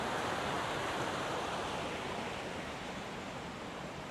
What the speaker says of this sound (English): This is the lovely little creek comes down through here.